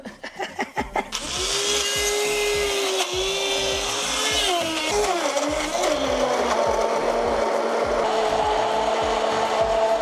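An electric blender motor whirs steadily, blending ripe tomatoes inside a camper van running off a 220 V converter; a few knocks come first, then the loud continuous drone with shifting pitch runs to the end.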